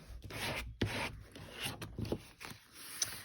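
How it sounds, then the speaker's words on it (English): A scraper rubs back and forth over thin tissue paper in a collage, giving soft, close, scratchy strokes in short bursts with brief pauses between them. "Use my scraper."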